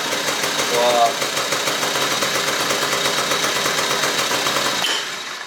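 A Honda Cub EZ90 mini bike engine running with a steady, fast, rattling putter at close range, then cutting down sharply near the end.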